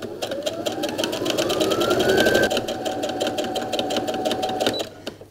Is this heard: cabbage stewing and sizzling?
no